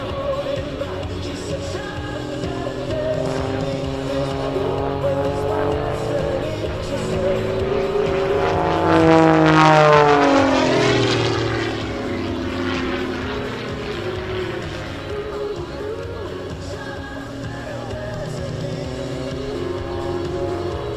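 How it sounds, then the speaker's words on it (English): An Edge 540 aerobatic airplane performs rolls and loops at the 2017 New York Airshow, its propeller engine droning steadily and swelling into a loud Doppler sweep as it passes close overhead, then fading back to a sustained roar. "showing you the quick rolling moment of the airplane"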